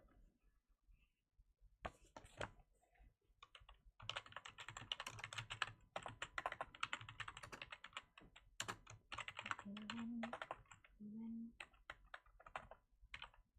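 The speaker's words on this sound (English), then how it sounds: "I'm typing in the book that we'll be reading today for now." Typing on a computer keyboard, steady bursts of close, crisp key clicks running through most of the stretch, with brief quiet pauses and a little faint background sound.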